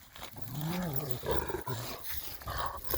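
Low, rumbling growls from a dog, a Turkish village square dog, run almost continuously and fairly close, rising and falling in throaty bursts with occasional sharper snarls.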